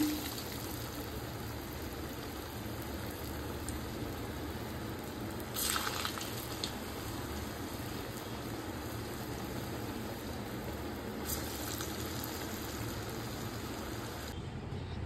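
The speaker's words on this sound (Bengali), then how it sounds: "এবার এই তেলে আমি আলু আর কাঁচকলার মাখাটা কোপ্তার আকারে ভেজে নেব।" Kofta balls of mashed potato and green banana fry gently in oil over a low flame, giving a soft, even, rain-like hiss close by, with a couple of brief louder spatters and no talking.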